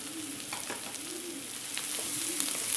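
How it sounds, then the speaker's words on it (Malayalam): Sliced onions with halved green chillies sauté in a pan, a faint, even sizzle with a few soft stirring touches, while a pigeon-like cooing murmurs in the background. "ഇതൊന്ന് വഴറ്റി കൊടുക്കണം."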